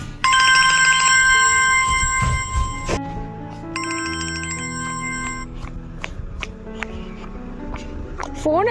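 A mobile phone left behind at home rings with a bright, repeating electronic melody, loud and close, pausing briefly before the tune starts again over faint background noise.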